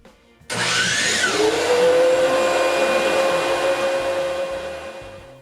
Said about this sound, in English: All that's left is to set it in place, hook up the dust collection, and give it a try.